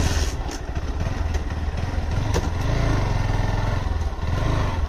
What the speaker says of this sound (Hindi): स्टार्ट करता हूँ मैं बाइक पहले।